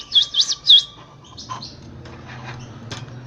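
Newly hatched canary chicks give three quick, high, bright chirps up close at hand feeding, followed by faint rustling and softer peeps.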